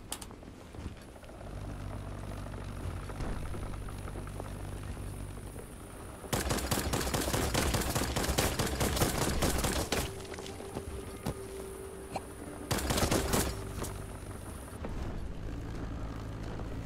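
Bursts of rapid gunfire from the video game Black Skylands, two loud stretches of sustained shooting over a steady background hum, with quieter gaps between.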